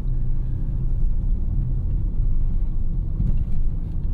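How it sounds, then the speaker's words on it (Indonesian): Steady low road rumble fills the cabin of a 2015 Honda HR-V S CVT driving over paving-block road, a continuous dense drone with slight swells, no voices. "Road noise itu masuk sekali ke dalam kabin."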